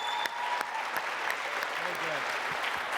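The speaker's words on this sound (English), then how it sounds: "Now for the biggest applause." Warm applause from a lecture-hall audience for a speaker at the Duncanson Lecture, a steady patter of clapping with a few voices talking over it.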